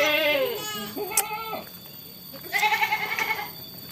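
Goats bleat loudly and close by in a West Java village, several wavering calls, one after another with short pauses between them.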